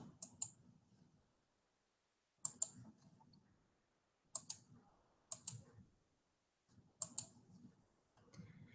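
Computer mouse clicks, close and crisp: six short click pairs, some in quick double-click bursts, spread over several seconds of near silence.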